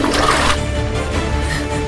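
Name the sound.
toilet flushing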